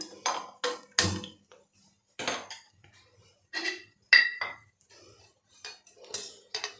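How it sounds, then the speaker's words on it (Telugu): A non-stick kadai pan being handled on a kitchen stove gives several distinct metallic clanks and clinks, spaced irregularly with quiet pauses between them, close and fairly crisp. "ఇప్పుడు ఒక కళాయి తీసుకుందాం, నాన్ స్టిక్ కళాయి."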